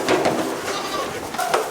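Meat goats on a ranch bleat several times close by, a few short wavering calls overlapping in under two seconds.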